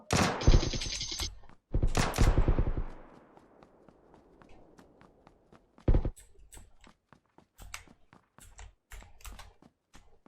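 Gunfire in the video game PUBG Lite: loud rapid bursts of automatic shots up front, then a scatter of sharp, separate single shots and clicks over a quiet background.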